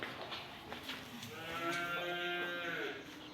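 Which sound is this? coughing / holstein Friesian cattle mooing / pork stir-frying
holstein Friesian cattle mooing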